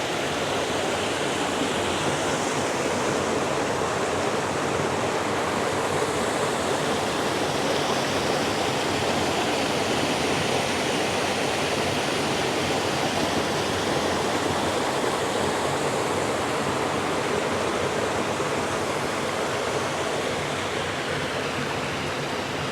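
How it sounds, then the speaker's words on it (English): A small waterfall in Hickory Run State Park pours in a steady, loud, broadband rush of falling water that holds constant throughout, with no voices. "we've come across another tiny little waterfall here"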